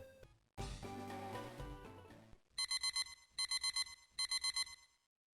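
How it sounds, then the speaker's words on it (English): A Team Rocket pager beeps in Pokemon Fire Red: Rocket Edition, three quick bursts of electronic beeping, each a rapid run of about five chirpy tones, after a short swell of game music. "The rocket pager is beeping."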